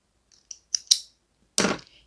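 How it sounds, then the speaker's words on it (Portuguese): Scissors snip crochet thread close by, a few faint clicks followed by one louder, rustling cut, with no voice heard. "Em seguida, eu vou cortar a linha dessa forma"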